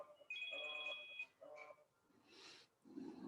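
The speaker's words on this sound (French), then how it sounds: "Ah, j'ai oublié de couper mon portable" A mobile phone rings indoors during a Qigong class, its electronic ringtone playing two short tonal bursts, then a voice speaks briefly over soft room noise.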